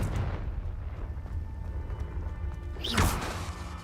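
Confringo fire spell exploding in the Hogwarts Legacy video game: a single deep, sharp blast with a whooshing burst near the end, over a low rumbling game background with no talking.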